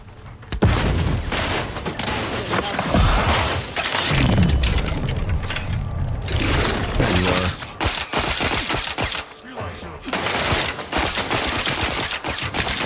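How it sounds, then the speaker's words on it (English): Sustained gunfire with rapid bursts and a grenade blast in the video game The Outer Worlds 2, loud and dense throughout, with booming impacts breaking through near the start and middle. "Whoa, that's a grenade."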